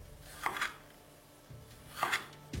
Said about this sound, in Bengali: আমি এখানে একটা টমেটোও কেটে নেব